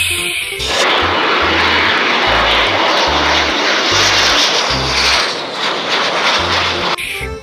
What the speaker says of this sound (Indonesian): Wow, ini ada pesawat F-18. Wow, airport take off.